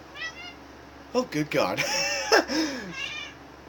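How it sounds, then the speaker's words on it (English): A female house cat meows several times, close and clear, with someone talking over and between the calls. "Yeah, that's my cat."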